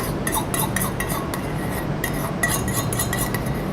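A fork clinks and scrapes against a bowl while salt and pepper are mixed through tabbouleh, with quick, irregular metallic taps close to the mic over a soft background hum.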